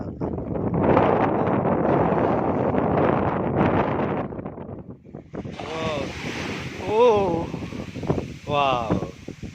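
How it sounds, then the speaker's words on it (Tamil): Ocean surf and wind roar steadily at Dhanushkodi near Rameswaram, then voices talk over the washing waves in the second half. "கடல் அலை எங்கேனாலும் அப்படியே ஏறும்"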